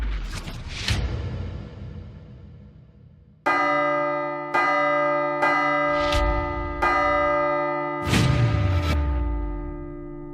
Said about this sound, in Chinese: 咱们从白天啊找到了现在，终于听到了钟声